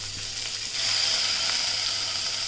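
Ginger garlic paste sizzles in hot oil in a kadai alongside slit green chillies, a steady close frying hiss that grows louder and more intense partway through.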